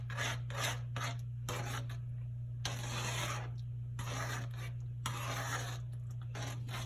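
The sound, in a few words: stirring grits in a pot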